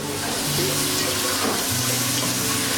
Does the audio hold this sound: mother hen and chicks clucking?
no